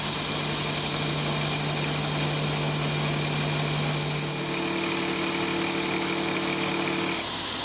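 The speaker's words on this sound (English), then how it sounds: "I'm just going to run this radius cutter around these four edges just to give them a bit of a nicer look" Radius cutter running around the edges of a machined motorcycle clip-on clamp for a Moto Guzzi Le Mans III, a steady machine hum with a low drone that shifts partway, continuous and moderately loud with no talk.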